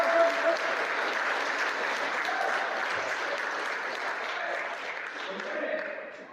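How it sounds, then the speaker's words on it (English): Sustained audience applause at a live keynote for the founder of Next Play, steady dense clapping from a sizable crowd throughout, loud and close, with faint voices mixed underneath. "I would love for you to make some noise, give a round of applause for the founder of Next Play, my boy, Richie Contartesi."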